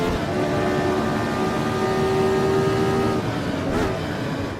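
Formula Retro race car engine in Automobilista, a steady loud close engine drone held at high revs throughout, the tone shifting slightly near the end, with no talk.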